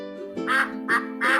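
A duck gives three nasal quacks in quick succession, loud and near, with a steady tonal hum running underneath.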